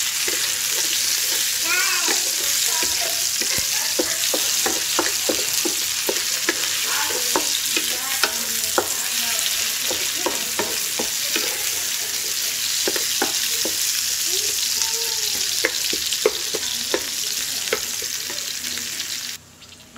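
Shrimp kimchi fried rice sizzles loudly in a hot pan, with frequent scraping clacks as a wooden spoon stirs it briskly, the crackle continuous and close before cutting off at the end.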